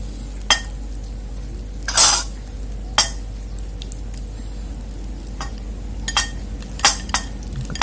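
A spoon stirs ketupat sayur Padang with sambal and carrots in a dish, giving sparse light clinks and scrapes of metal on the bowl, with a few sharper taps spread across a quiet room.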